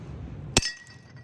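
A piece of glass breaks with a single sharp crack and brief clinking ring, loud and close against a quiet background.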